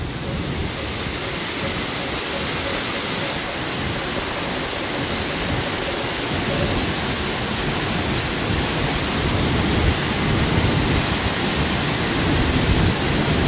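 Hongryong waterfall at Hongryongsa temple in Yangsan, Korea, falling some 15 to 20 metres with heavy spray, a loud, dense, unbroken roar of crashing water heard up close and swelling slightly louder toward the end.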